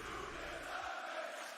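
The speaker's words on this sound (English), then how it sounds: "Crowd is hyped." A hyped arena crowd at a WWE SmackDown street-fight event roars in a steady, dense wash of cheering that holds at an even level for the whole stretch, with no clear voices picked out.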